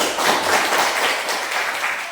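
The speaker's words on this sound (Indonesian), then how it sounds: "Mari kita tepuk tangan untuk kita." An audience of schoolchildren in an Indonesian classroom claps hands together after a group presentation, producing a steady, dense wash of applause that carries evenly through without breaks.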